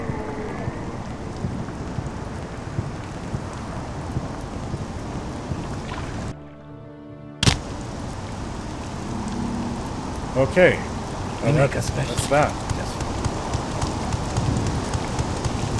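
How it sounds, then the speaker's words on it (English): Steady cold rain falling on the island of Solstheim in The Elder Scrolls game, a continuous hiss that briefly drops out before resuming, with someone talking over it. "Yeah, this is cold rain."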